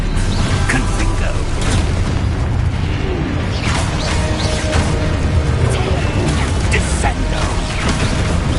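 Spell blasts and explosions from the Hogwarts Legacy video game, including the Confringo fire spell, dense booming bursts layered over continuous combat noise, with a voice shouting spell names.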